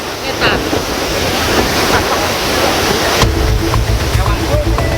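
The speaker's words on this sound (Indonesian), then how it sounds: "Arus banjir deras membuat arus lalu lintas lumpuh total" Floodwater from a burst Tuntang River levee rushes loudly and continuously in a broad roaring wash, with wind buffeting and a sudden heavier surge partway through.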